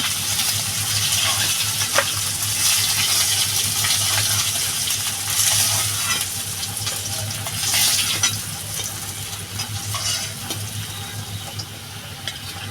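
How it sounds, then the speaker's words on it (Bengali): Tilapia fish frying in hot oil, a steady close sizzle and crackle running throughout with occasional stirring clinks and no voices. "মাথাটা রয়েছে মাথাটা ভেজে নেব"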